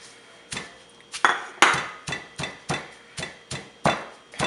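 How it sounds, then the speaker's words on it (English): Roasted lemongrass, galangal and kaffir lime leaf pounded in a mortar and pestle, about ten sharp, evenly spaced thuds ringing close up against quiet. "we're going to go ahead and add it in a mortar and pestle,"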